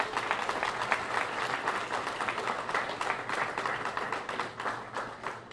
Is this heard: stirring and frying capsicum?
no